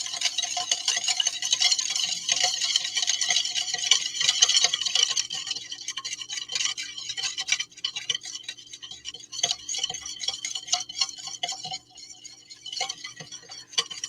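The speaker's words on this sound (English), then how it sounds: "want to just stir this until that sugar dissolves inside of the soy sauce" Spoon stirring sugar into soy sauce in a small bowl, a steady scraping swirl, close and continuous with brief taps, no talking.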